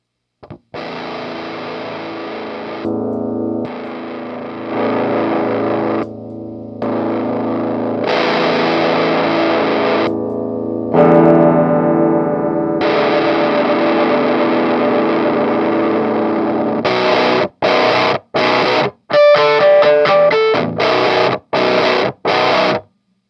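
An electric guitar plays through a 903 Effects Geranium Launch pedal: loud, distorted sustained chords broken by brief gaps, then a run of short, choppy stabbed chords near the end.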